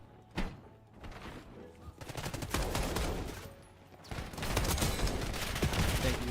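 Gunfire in a Call of Duty match: one sharp shot, then sustained bursts of rapid automatic fire that come in dense waves and build to a heavy, continuous barrage near the end.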